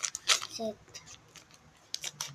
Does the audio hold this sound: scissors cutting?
yes